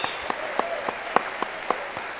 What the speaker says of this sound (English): if you just give her a little round of applause right now, ladies and gentlemen